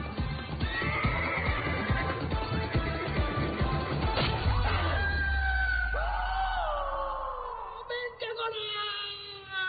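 A horse whinnies loudly and at length, with clip-clop hoofbeats and busy background noise at first, then a long, wavering neigh rising and falling in pitch, close and prominent.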